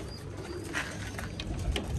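Pigeons coo in a keeper's loft, a steady low murmuring of several birds close by with soft rustling, no talk over it.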